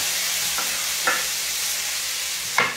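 Food fries in a hot pan with a steady, bright sizzle that goes on throughout, close up, broken by a few soft clinks of stirring. No one speaks.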